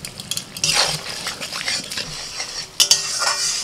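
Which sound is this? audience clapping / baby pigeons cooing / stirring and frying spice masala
stirring and frying spice masala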